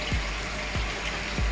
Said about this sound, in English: I'm going to put 3 tablespoons of water into the sugar